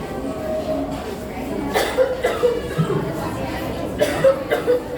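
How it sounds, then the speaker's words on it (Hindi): A man coughs several times in a staged health skit, with short bursts of cough and throat sounds over a murmuring room background. "भाई, तू इतना क्यों खांस रहा है?"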